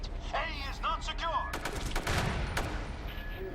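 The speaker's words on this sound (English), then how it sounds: "All sorts of grenades going off over there." Grenades burst in the online shooter MAG, a cluster of sharp cracks and a rumbling blast following a few chirpy game sounds, all fairly near and moderately loud.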